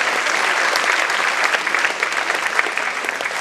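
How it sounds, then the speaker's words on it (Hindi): An audience at an annual community awards program in Mumbai claps loudly and steadily, a dense continuous applause from a sizeable crowd with no voices standing out. "जोरदार तालियां बजती रहनी चाहिए।"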